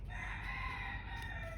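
A hen gives a steady, continuous call close by with no talking, a sustained vocal sound lasting the full length, with a backyard feel as a cat prowls nearby.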